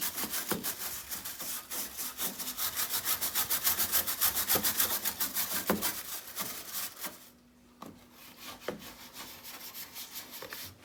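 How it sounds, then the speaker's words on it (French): A synthetic brush scrubs parts of a Vaillant ecoTEC pro boiler in quick, close, rhythmic strokes, then slows to a few separate scrapes near the end. "pour aller vraiment frotter dans les rayures. Tout décrocher. Avec une brosse synthétique, pas métallique."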